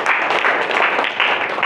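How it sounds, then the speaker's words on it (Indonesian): Audience applause for a student named Rizky at a teacher-training classroom session, steady dense clapping from a group that fills the short moment at even loudness. "Berikan tepuk tangan untuk saudara Rizky"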